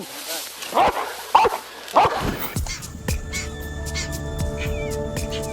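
A police sniffer dog barks a few times in short, loud yips up close, then a busy stretch of mixed outdoor noise with voices and steady tones continues behind it.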